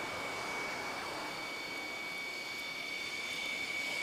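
An F-111A jet at maximum gross weight rolls out on the runway after landing, giving a steady, even engine roar and whine at moderate distance with no break or change in level.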